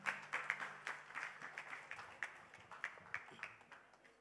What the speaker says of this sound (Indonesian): Tepuk tangan untuk Bung Man